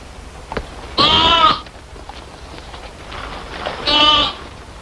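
Two loud, wavering lamb bleats, one early and one near the end, each lasting about half a second, with quiet background between them.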